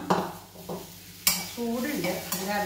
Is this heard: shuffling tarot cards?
no